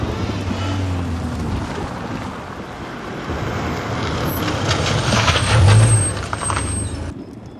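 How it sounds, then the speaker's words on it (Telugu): A truck rumbles on in a low, steady roar with broad noisy wash, swelling louder near the end before easing off; no voices are heard. "బదాని సార్, వెళ్ళి ట్రక్ చెక్ చేయి."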